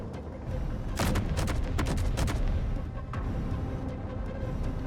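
Several turrets firing in the Space Engineers game, a burst of loud sharp shots clustered in the middle over a steady low rumble, then fading to background hum.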